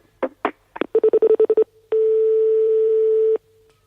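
A telephone being dialled: a run of short tone beeps, quick single presses then a rapid burst, followed by a long steady tone, close and clear with no talking.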